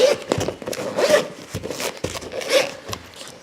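A zipper on the packaging of an Arceus plush is pulled open in several quick, scratchy strokes, close and fairly loud, with short pauses between pulls.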